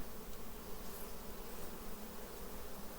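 Honey bees buzz steadily around an open hive during an autumn heather and goldenrod honey harvest, a faint, slightly agitated drone with no talking.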